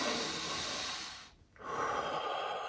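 A slow, deep breath drawn in and released with an airy hiss, close and clear, one long inhale followed by a brief pause and a long exhale.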